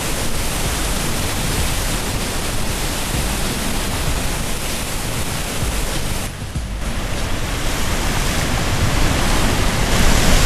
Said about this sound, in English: just the massive force and power of this river being let out